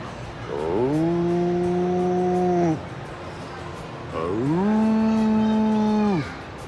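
A cow moos twice, each a long, steady, low call lasting about two seconds, loud and fairly close, with a brief pause between them and faint background noise.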